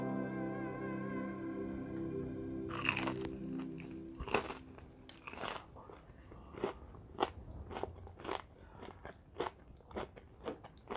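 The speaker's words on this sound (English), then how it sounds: "Now for a taste test. Keto fried chicken." Crispy keto air-fryer fried chicken bitten into with a loud crunch, followed by a series of close, sharp crackling chews in an irregular rhythm, preceded by a short steady hum.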